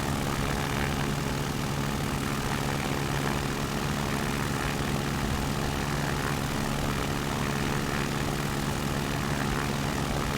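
A propeller taildragger aircraft engine in the X-Plane 11 flight simulator drones steadily and loudly for the whole stretch, a dense unbroken roar without pauses and with no talking.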